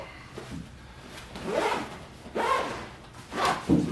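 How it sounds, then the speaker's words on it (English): Zipper on a GORUCK GR2 40L backpack being pulled closed in several short rasping strokes, close and clear with no talk. "So zipping that back up"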